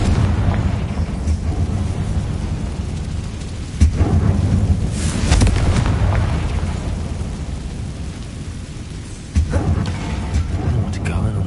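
A fire spell explosion in the video game Hogwarts Legacy, a deep booming blast with a rumbling tail like thunder, followed by lingering crackle and a second burst, with a voice speaking over it.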